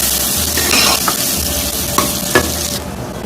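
Oil with pounded ginger, garlic and turmeric sizzles steadily in a pan over a fire, a close, continuous frying hiss broken by a few sharp scrapes of stirring.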